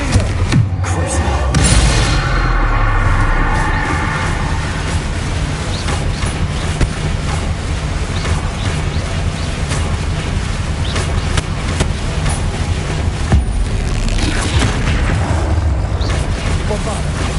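Spell blasts from Bombarda and Confringo in the Hogwarts Legacy video game, a steady stream of booming, thudding impacts and mechanical clatter running the whole time, loud and dense, with game voices mixed in.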